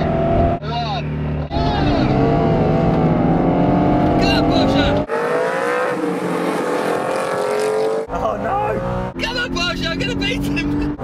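Aston Martin GT8 and Porsche 718 Cayman, both rear-wheel-drive manuals, launch off the line in a drag race, loud engines revving and roaring together while someone talks over them throughout.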